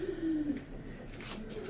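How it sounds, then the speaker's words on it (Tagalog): A racing pigeon held in the hand gives a low, soft coo right up close, a short drawn-out call followed by quieter rustling and another faint coo. "doon natin ipapadala itong hawak kong ibon"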